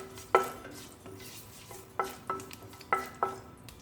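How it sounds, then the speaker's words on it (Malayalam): Cloves, cardamom and a small piece of cinnamon are stirred in hot oil for a vegetable biryani, with a soft background sizzle broken by about six sharp spoon clicks against the pan. The sound is quiet and close, with no voices. "ഓയിൽ ഒഴിക്കാം. ഇതിലേക്ക് 3 ഗ്രാമ്പൂ, 3 ഏലക്ക, ഒരു ചെറിയ കഷ്ണം പട്ട,"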